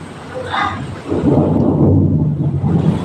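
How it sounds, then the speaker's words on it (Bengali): A loud roll of thunder during a rainstorm with heavy lightning rumbles in after a brief quiet moment and keeps growling heavily to the end, in Savar, Ashulia, Bangladesh. "আর অনেক বজ্রপাত"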